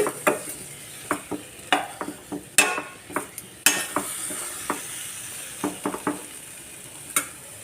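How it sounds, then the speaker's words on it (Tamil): Chana masala ingredients, with the ground masala mixed in, being sautéed in a pan: a steady sizzle broken by repeated scraping stirs and spoon clinks at an uneven rhythm, close and clear, with no talking. "இதெல்லாம் நல்லா வதக்கிக்கிடுவோம்."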